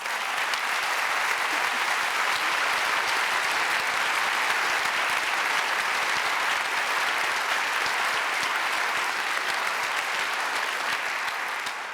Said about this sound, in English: Please clap for our professors.